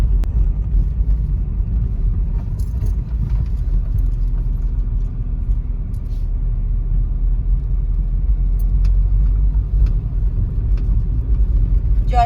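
Car climbing uphill along a main road near a temple in Ranchi, a steady low engine rumble heard from inside the car with faint occasional clicks and no voices.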